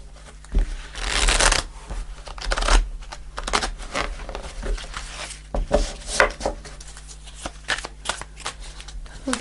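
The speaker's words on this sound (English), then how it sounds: "We'll do one more shuffle." Tarot cards being shuffled by hand, close-up, with rapid riffling bursts and soft slides and taps of the deck in an irregular rhythm, plus a low steady hum underneath.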